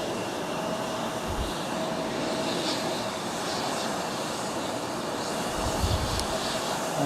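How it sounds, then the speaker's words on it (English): A Philippine Airlines jet from Manila lands on the main runway at Fukuoka Airport, a distant, continuous airliner roar with a few low rumbling surges. "we've had a Philippine Air land from Manila over on the main runway there"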